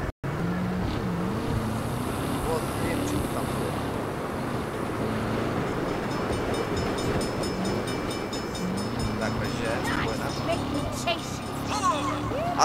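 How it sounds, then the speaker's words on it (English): A train rumbles past in the Saints Row video game, a steady loud roar with rhythmic rattling over a city driving soundscape, while people talk over it. "Crap, bad time for a train."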